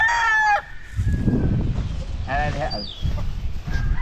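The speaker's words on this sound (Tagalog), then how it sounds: "Tingnan nyo guys, dyan sa loob maraming mga sisiw na nandyan." Chickens and chicks of black and white fowl are kept in a coop. Clucks and a rooster-like call sound close by, and someone talks loudly over them for much of the time.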